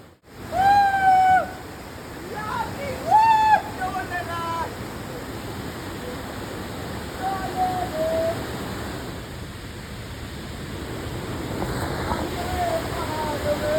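Water flowing steadily at a bathing spot at the bottom of a long stairway in Meghalaya, a continuous broad rush with brief whistle-like tones early on and no clear talk.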